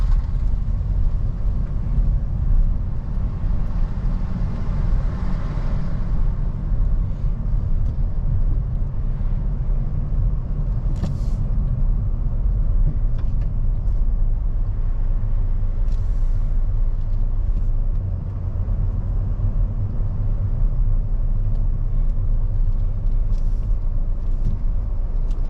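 A car drives along a coastal road near Sutomore in Montenegro, its steady low engine and road rumble filling the whole stretch from inside the cabin, loud and continuous with no talking.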